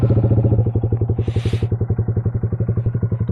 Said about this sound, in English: Let's get that cold start